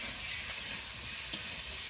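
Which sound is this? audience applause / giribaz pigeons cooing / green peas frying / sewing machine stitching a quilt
green peas frying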